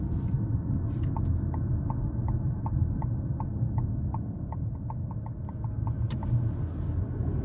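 A 2026 Ford Maverick Hybrid XL AWD cruising on the road, with a steady low rumble of road and tire noise filling the cabin and a faint regular ticking, like a turn signal, repeating throughout.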